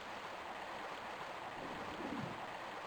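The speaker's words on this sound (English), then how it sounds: "Into the river." Steady broadband rush of river water flowing in Tomb Raider 1 Remastered, a continuous even wash with a brief swell of gurgling near the end, no talk over it.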